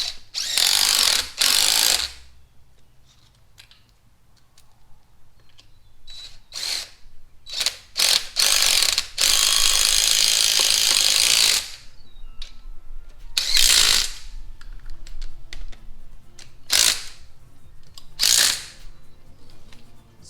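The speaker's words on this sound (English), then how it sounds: "one thing I completely forgot I had was I bought this the other day, an impact" A DeWalt 20 volt cordless impact wrench removes engine mount bolts during a WS6 Trans Am teardown, firing in loud close bursts of rapid hammering, one long run and several shorter ones, separated by quiet pauses.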